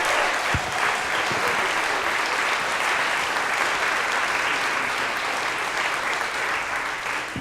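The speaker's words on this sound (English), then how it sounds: "Warm round of applause for David Grenier." A comedy club audience claps warmly for a comedian, a dense, even round of applause that stays full for several seconds before tapering slightly at the end.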